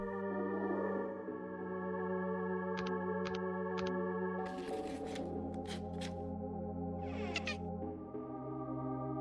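A cat meows a few times in a Silent Hill game over a steady droning soundtrack, with short clicking effects and a brief burst of noisy scraping.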